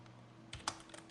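A few quiet keystrokes tapped on a computer keyboard, isolated clicks with short gaps over a faint steady hum.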